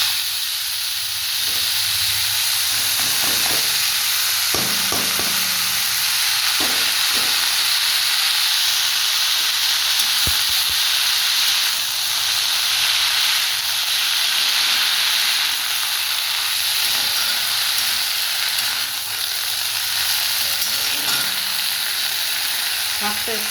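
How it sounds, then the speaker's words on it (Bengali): Fenugreek greens (methi shak) fry in a little oil in a pan in a village kitchen, giving a loud, steady sizzle that runs the whole time. Occasional stirring knocks and scrapes rise above it, and no one speaks. "শাকটা একটু ভেজে নেবো।"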